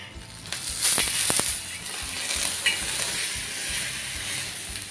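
Stuffed pomfret fries in a pan right after being flipped, with a steady close sizzle, a cluster of quick clacking spatula taps early on and a hissing spit partway through.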